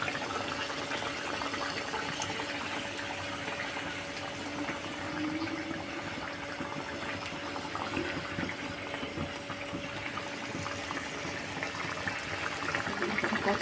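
Mustard fish curry broth simmering in a pan, a soft continuous bubbling and hiss at low volume, steady and unbroken with no voices.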